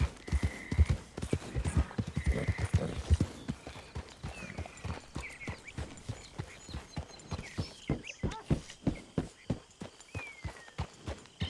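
Horse hooves clip-clop in steady rhythm through a Red Dead Redemption 2 game scene, close and moderately loud, with brief voices and a faint whinny-like cry early on.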